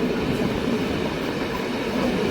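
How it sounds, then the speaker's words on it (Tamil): A night mail express train bound for Jaffna rumbles steadily past at close range at night, a dense continuous roar of wheels and carriages with no break. "இந்த நைட் மெயில் எக்ஸ்பிரஸ் ட்ரெயின் வந்து பயணிக்கிறது"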